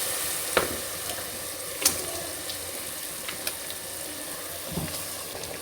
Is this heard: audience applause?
no